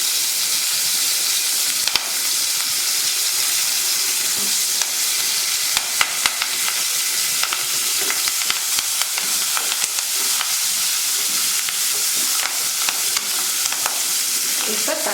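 Onion, garlic and curry leaves fry in a pan for mochai kulambu, a steady bright sizzle running throughout with scattered stirring clicks and scrapes, close and fairly loud, no voices.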